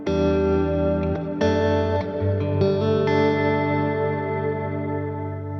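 A guitar played through a reverb pedal with decay turned up full rings out in sustained, washy chords, each strum blooming and trailing into a long smooth tail, with no talking.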